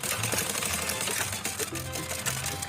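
Sewing machine stitching a petticoat waistband with a seam margin, a steady fast mechanical rattle running continuously at moderate level with faint motor hum underneath.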